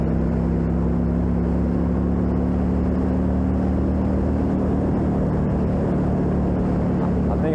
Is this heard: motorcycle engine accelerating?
yes